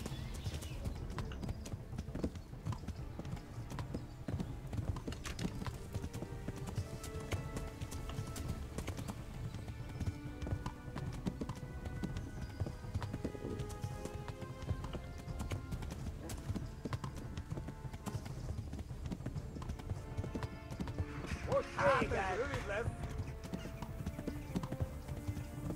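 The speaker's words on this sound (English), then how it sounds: "Okay, I gotta let the horse regain its stamina." Horse hooves clip-clop steadily in the medieval game Kingdom Come Deliverance, a continuous rhythmic trot over game music, with a brief horse whinny near the end.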